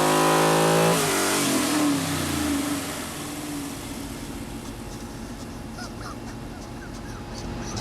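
A GTM supercar fitted with an E-Rod engine in place of its LS1 revs loudly and sharply at the start, then settles into a steady, rumbling drone close by.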